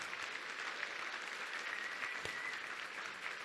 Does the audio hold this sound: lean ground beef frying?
no